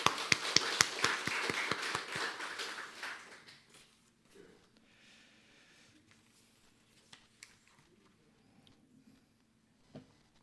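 A church congregation claps in welcome during a Sunday worship service: loud, fast, rhythmic hand claps that fade out after a few seconds into near silence with scattered faint taps.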